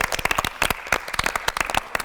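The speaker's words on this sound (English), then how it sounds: "I think we should give them a round of applause" A small group clapping for a theatre cast rehearsing on stage, close, brisk and uneven individual hand claps with no one talking.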